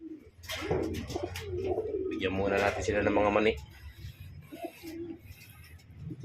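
Homing pigeons coo outdoors, soft throaty calls rising clearly midway with bird chatter around them, while someone speaks over them.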